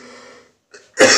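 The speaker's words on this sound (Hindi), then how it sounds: "थोड़ा खांसी हो चुका है" A single harsh, loud cough bursts out at the end, coming just after a short stretch of a voice during a Hindi history lesson.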